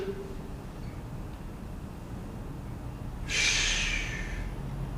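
Heavy exhaled breath from a lifter during a set of stiff-leg deadlifts, a single loud breathy rush arriving late after quieter steady breathing, close to the listener.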